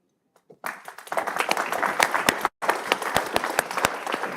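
Audience applause at a graduation ceremony for higher education leadership fellowship graduates, starting after a brief pause and swelling into steady, dense clapping with a short gap midway, fairly close and loud with no talk over it.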